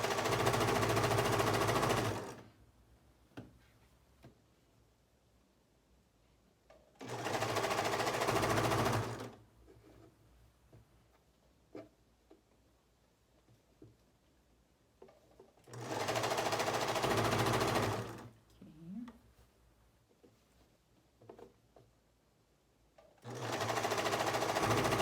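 Four separate bursts of a sewing machine stitching a viscose dress seam, each about two seconds long, with quiet handling noises between them.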